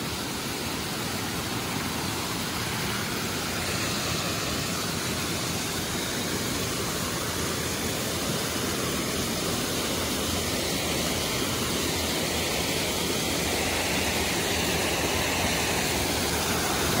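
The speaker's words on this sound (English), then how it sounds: "There's the old spillway that was built by the CCC." Water rushes steadily over an old stone spillway built by the CCC, a continuous even roar that holds at the same level throughout with no voices.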